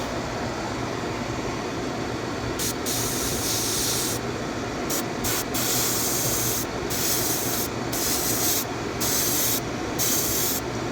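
An old airbrush spraying Comart Opaque sap green paint onto a 3D-printed fishing lure, a continuous close hiss with repeated short surges in the upper hiss as the trigger is pulsed, no talking.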